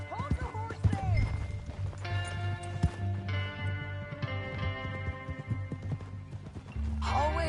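A horse's hooves clip-clop at an irregular pace among other clattering and a rumbling background, with voices and tonal sounds in the mix.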